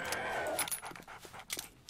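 A dog from the video game 7 Days to Die, heard as a run of short panting and whimpering sounds with a few sharp bursts, fairly close and moderately loud over a steady game background.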